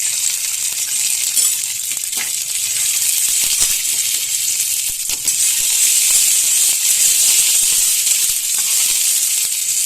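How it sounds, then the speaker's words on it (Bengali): Bay leaf, dried red chilli and cumin seeds sizzle in a little hot oil, a steady bright crackle and hiss held close and loud for the whole stretch, dotted with small pops and spits, no voices over it. "ফোড়নটাকে একটু ভালো করে ভেজে নেব।"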